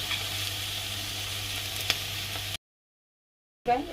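Onion fries in a pan with a steady sizzling hiss and a single brief pop. The sound cuts out to silence partway through, then briefly resumes.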